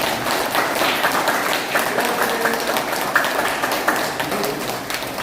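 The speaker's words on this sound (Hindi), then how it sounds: "चलो इसी बात पे तालियां।" A crowd claps steadily for several seconds, a dense, even patter of many hands applauding with no pauses.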